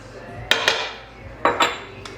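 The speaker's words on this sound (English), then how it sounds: "And then once I get these nuts chopped into it, then we can mix this up." Spoon strokes clink against a bowl while zucchini batter with chopped nuts is mixed, two pairs of sharp metallic taps separated by softer scraping, close and fairly quiet, with no talk.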